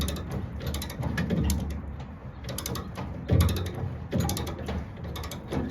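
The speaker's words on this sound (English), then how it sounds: "Literally just crank it like a ratchet. It'll raise the tire back up." The spare tire hoist on a Chevy Silverado is cranked like a ratchet, giving repeated close mechanical clicking with rhythmic bursts of ratchet and gear noise and no talking.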